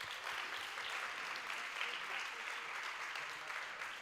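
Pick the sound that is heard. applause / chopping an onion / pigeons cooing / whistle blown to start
applause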